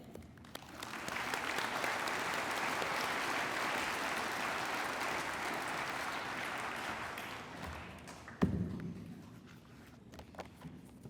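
An audience applauds steadily for several seconds to welcome a speaker at a Veterans Day program, the sustained clapping filling the room before fading out, followed by a few scattered thumps and a brief voice.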